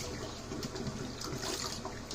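Water runs steadily into a kitten's bath, a faint continuous trickling and splashing that goes on without pause, quiet and close.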